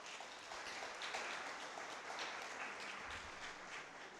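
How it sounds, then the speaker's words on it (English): A room of audience members at a university orientation applauding parents and guardians, with dense, even clapping heard from a distance that holds steady for several seconds. "I ask you in this room to give a round of applause to the parents and guardians who have stood by you to this point"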